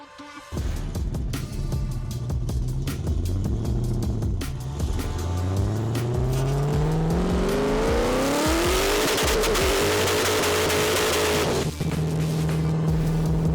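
A car's engine revs up hard through a test pull, its pitch climbing steadily with a shift partway through, loud and close, with some tire noise and no talking.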